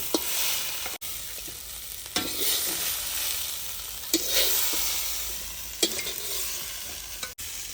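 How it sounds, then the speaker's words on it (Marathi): Grated coconut roasting in a hot pan for Maharashtrian masvadi, a steady dry sizzle and crackle broken by several louder scraping stirs of a spoon against the pan, close and alone with no voices. "आता आपण हा हे खोबरं भाजून घेत आहे"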